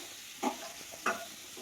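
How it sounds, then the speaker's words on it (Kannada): Curry leaves dropped into hot oil for a tempering in a bamboo shoot sambar, giving a quiet steady sizzle with two sharper crackling bursts close to the pan. "ಆಮೇಲೆ ನಾನು ಕರಿಬೇವು ಹಾಕ್ತೀನಿ, ಯಾಕೆಂದರೆ ಸಿಡಿದಿರುತ್ತೆ."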